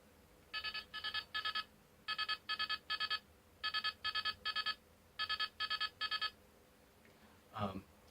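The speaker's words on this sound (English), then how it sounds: "the ringtone sound, which is just a ringtone." A Gaoranger G-Phone brace toy plays an electronic ringtone in four bursts of three quick beeps each, bright and clear against a quiet background, followed by a short rustling sound.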